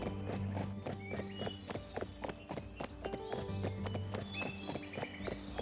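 Horse hooves patter in Barbie Wild Horse Rescue, a quick steady gallop over looping game music with chiming tones and an occasional whinny.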